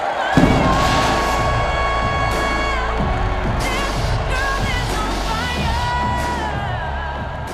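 A large crowd at a corporate OneCoin launch event gives loud, continuous applause and cheering for the company founder. The dense roar holds steady throughout, with scattered whoops over a thumping music bed.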